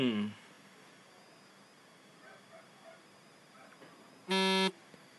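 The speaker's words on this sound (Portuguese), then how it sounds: "Meu Deus, esqueci de tirar as notificações do Facebook." A phone sounds a short, loud, tonal Facebook notification chime near the end, after a brief tone at the start, over a quiet background during Android/iOS play of Gangstar Vegas.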